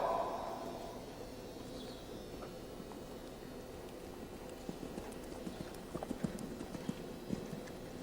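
Dressage horse hooves thud in a steady, soft rhythm on an arena surface at a riding clinic, low and moderately close, with a few sharper strikes toward the end.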